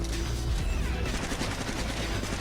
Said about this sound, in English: We're gonna avoid the shots.